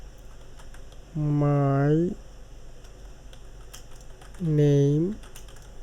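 Light clicks of typing on a computer keyboard run steadily under two short phrases of nearby speech.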